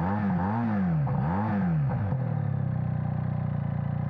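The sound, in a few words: SRK 400 motorcycle original exhaust revving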